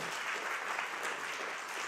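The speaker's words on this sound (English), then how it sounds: "a round of applause for our judges" A round of applause for the judges at a grand final competition evening, continuous many-handed clapping heard fairly faintly and evenly throughout a short stretch.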